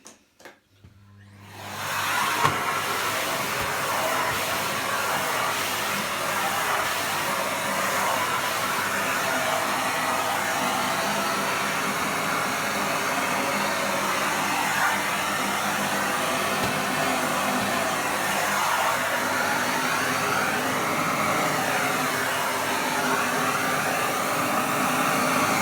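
A Miele Parquet Twister XL vacuum cleaner switches on after a brief quiet start, then runs as a loud, steady whooshing motor drone for the rest of the time while it cleans the floor, with no talk.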